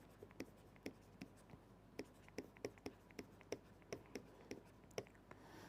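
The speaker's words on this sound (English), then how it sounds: "I need to write slowly" A pen or chalk scratches out handwriting during a quantum field theory lecture, a quiet irregular run of short strokes and taps close by.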